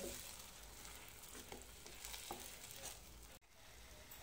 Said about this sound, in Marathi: आलं, लसूण, खोबरं आणि कोथिंबीरचं जे वाटण केलं होतं मिरची घालून, ते तेल सुटेपर्यंत चांगलं परतून घेऊया